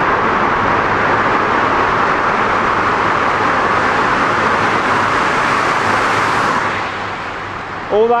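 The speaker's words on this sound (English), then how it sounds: "all that noise and it's just a car" A car passing loudly on a road in Switzerland, a long sustained roar of engine and tyre noise close by that fades away near the end, followed by a brief faint tonal sound.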